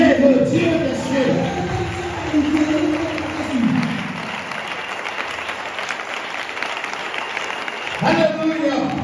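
Church congregation applauding steadily for several seconds, a dense wash of clapping with voices mixed in, easing midway and swelling again near the end.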